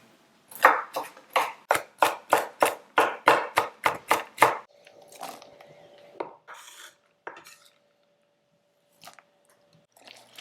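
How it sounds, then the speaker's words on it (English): A knife chops walnuts coarsely on a board for an apple ginger walnut cake: about a dozen quick, sharp, evenly spaced knocks close up, then a few scattered softer taps and scraping over a faint steady hum. "coarsely chop up a little bit of walnuts to give this cake a nice crunch"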